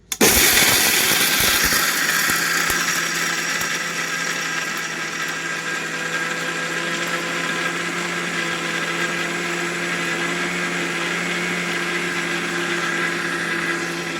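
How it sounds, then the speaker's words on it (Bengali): A mixer grinder whirs into action grinding sattu, starting with an abrupt loud burst and then settling into a steady, high-pitched motor whine that runs close and unbroken, with no voices. "এই মিক্সিটা চালিয়ে আমি ভালো করে এটা পিষে নেব।"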